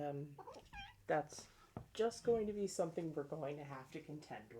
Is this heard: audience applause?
no